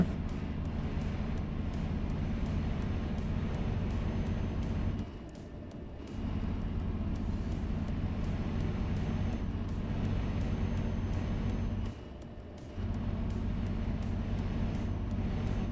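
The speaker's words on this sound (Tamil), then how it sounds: "வெஹிக்கிளோட சவுண்டை கேட்டிருப்பீங்க ரொம்ப ரட ரட ரட ரடன்னு ஒரு மாதிரி ரொம்ப சொரசொரப்பாக இருக்குது" A vintage truck under restoration runs with a rough, rattling engine in eighth gear, a steady loud drone broken by two short dips in level.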